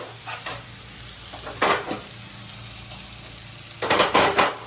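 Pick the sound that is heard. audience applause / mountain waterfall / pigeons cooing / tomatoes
tomatoes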